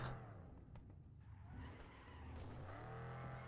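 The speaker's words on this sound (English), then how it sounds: "Car immediately lost grip after like the first 10 steps." Tires squealing and skidding as a car loses grip climbing a staircase in Cyberpunk 2077, a sustained screech over engine roar, loud and close, with no talking.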